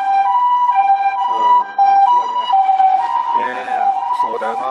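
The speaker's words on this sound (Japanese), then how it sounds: "救急車のサイレンの音ってさ" An ambulance siren wails loudly outside, its high two-tone pitch sweeping steadily and then bending downward as it passes close by.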